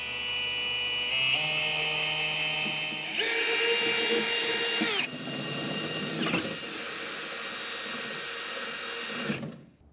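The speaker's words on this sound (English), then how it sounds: "I'm going to start out with an 1/8 inch drill bit. Then we'll go down below, just double check, make sure that we're lining up with our frame bracket." A power drill bores holes with progressively larger bits, from 1/8 inch up to 9/16 inch, through a truck frame while a 5th wheel trailer hitch is installed. Loud, sustained motor whine shifts pitch as the bit bites, then winds down.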